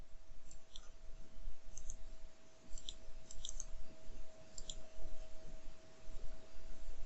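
Computer mouse buttons clicking while working in consignment software, a handful of soft, sharp clicks spaced irregularly over a quiet background hum.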